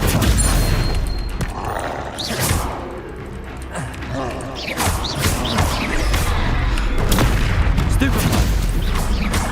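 Stupefy spell blasts and other combat spells in Hogwarts Legacy, a dense run of booming impacts and crashes across nearly ten seconds, loud and close, layered over game voices and battle effects.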